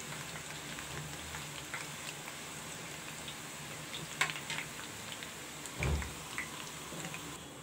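Besan sev frying in hot oil, a steady, close, continuous sizzle and bubbling with a couple of brief clatters, heard alone without any talk.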